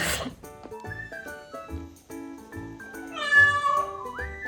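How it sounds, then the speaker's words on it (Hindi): A cat that has wandered indoors meows repeatedly, giving several clear, drawn-out cries close by in a quiet room, with a longer, rising wail near the end. "तो बिल्ली अंदर घुस आई है, मैं आपको दिखाती हूँ।"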